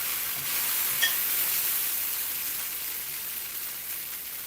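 Okra frying crispy in oil in a cast iron pan, a steady even sizzle with a faint crackle, continuous and fairly close.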